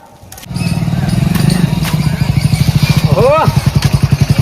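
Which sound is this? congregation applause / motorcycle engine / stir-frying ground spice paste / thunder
motorcycle engine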